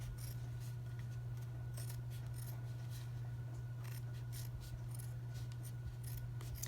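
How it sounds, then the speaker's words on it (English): Scissors snip down the side of a pocket in a string of quick, light, close cuts, repeated at an uneven rhythm over a steady low electrical hum. "Then I'm going to cut down the other side of the pocket."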